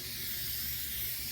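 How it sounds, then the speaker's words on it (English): Spray adhesive sprayed onto a fiberglass sound panel: a continuous, even hiss from the aerosol can, held close and steady throughout with no break and no voices. "even coat of spray adhesive"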